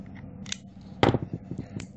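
A blade cuts around the plastic wrapper of an 18650 lithium-ion battery cell, giving a sharp snip at about the midpoint and a run of small clicks and scrapes after it, close and fairly quiet.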